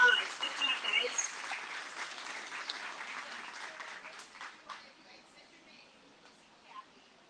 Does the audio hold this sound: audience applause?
yes